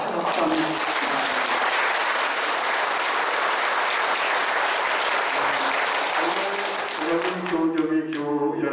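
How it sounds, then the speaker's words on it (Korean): A church congregation at a farewell thanksgiving Mass for a retiring priest in Pyeongchang claps together in a long, full burst of applause, with a voice beginning to speak as it fades out. "교우들 위해서 저는 먼저 축하를 드리고 박수를 치고 싶은데 같이 박수 한번 치겠습니다"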